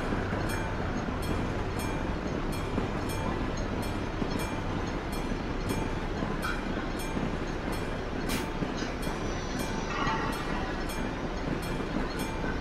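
A long freight train in the Euro Truck Simulator 2 video game passes continuously, its wheels giving a steady rumble and a regular clickety-clack at the rail joints. The sound stays fairly loud and unbroken throughout.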